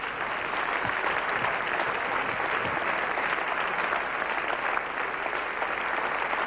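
A television studio audience at the French game show Des Chiffres et Des Lettres gives sustained, dense applause as a guest walks on stage, steady and even throughout with no voices.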